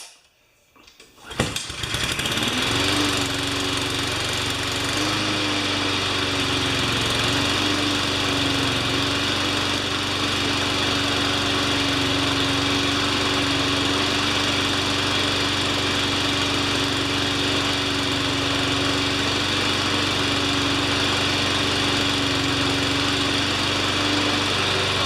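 A Craftsman 21-inch lawn mower with a Honda engine starts after a short pull and settles into a steady, loud, close idle drone with a slight waver, running on alone.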